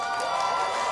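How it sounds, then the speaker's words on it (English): Crowd cheer sound effect, a brief burst of cheering and whooping voices layered with a bright steady tone, loud and continuous for about a second. "now I added my own cheer in there"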